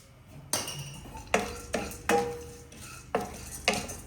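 Sunflower and pumpkin seeds roasting in a pan, with sharp crackles and pops and a few scraping stirs coming at irregular intervals, close by and fairly quiet with no voices.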